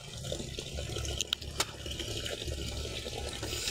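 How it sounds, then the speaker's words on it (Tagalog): Water gushes steadily from a tap, a continuous rushing hiss with a few faint clinks in the middle. "Mabilis yung tubig nyo ngayon, ano?"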